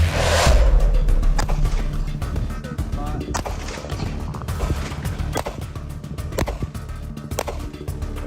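Gunfire at an outdoor shooting range, a rapid series of sharp, loud reports ringing out one after another over steady background noise, with a voice briefly audible.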